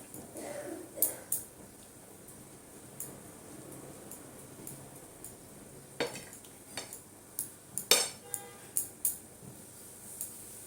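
Mango pickle gets mixed with spices in a bowl, heard as quiet scraping and soft stirring with scattered sharp clinks of a utensil against the dish, faint and close.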